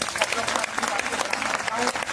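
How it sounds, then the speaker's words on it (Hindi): A crowd at a public meeting breaks into sustained clapping, a dense, even wash of hands at moderate distance that carries on without pause, with faint voices mixed in. "तो मैं चाहूंगा इसके लिए उन्हें एक बार जोरदार ताली"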